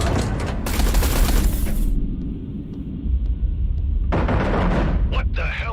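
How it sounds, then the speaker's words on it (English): Artillery fire on a carrier in the space-combat video game Everspace 2, heavy bursts of booming rumbling shots in two loud volleys separated by a quieter stretch, with voices speaking over parts of it. "Eduardo, concentrate artillery fire on Blakemore's carrier"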